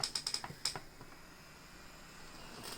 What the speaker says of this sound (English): Gonna spam delete because I think that's the button